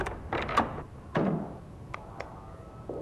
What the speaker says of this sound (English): Head back straight through this door into the kitchen.